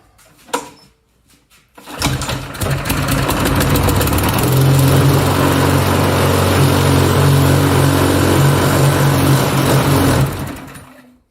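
A Craftsman lawn mower with a Briggs & Stratton engine is pulled over, catches and roars into a steady, loud, close idle for about eight seconds before cutting off, with a vibrating blade adding a rough buzz.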